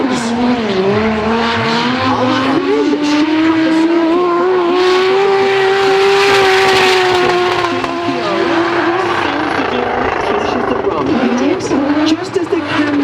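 Drift cars battle at the British Drift Championship at Three Sisters circuit, engines wailing as they rise and fall, with long tire squeal and skidding throughout under continuous commentary.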